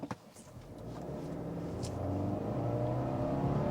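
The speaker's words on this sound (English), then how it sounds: "this week I'm behind the wheel of the all-new 2023 Subaru Outback" A 2023 Subaru Outback engine hums and builds as the car accelerates, a low steady drone rising gradually in loudness from inside the cabin, with no talk.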